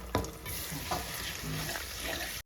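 Spice paste for an olive and amla pickle sizzles as it is stirred and sautéed, a steady frying hiss with a few scraping strokes.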